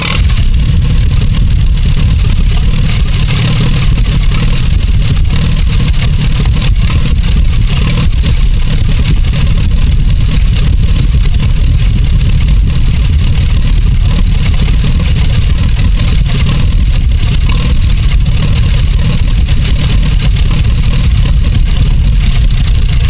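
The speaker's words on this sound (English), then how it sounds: "so we'll start it up now, make sure everything settles into place" Rebuilt Farmall 100 tractor engine runs steadily after being started, a loud, close, continuous low rumble with slight fluctuations in pace, and no talk over it.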